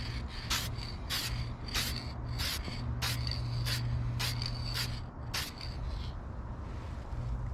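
A spray can or paint gun lays down touch-up paint on a boat's skeg in a series of short, evenly spaced hissing bursts over a steady low hum.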